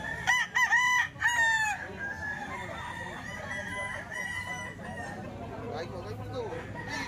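Two young roosters, Melsim grey gamefowl, crow loudly and close at the start, followed by a quieter crow a few seconds later over a busy outdoor background.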